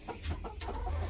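A chicken clucks in a few short bursts, close and moderately loud, over a low steady background hum.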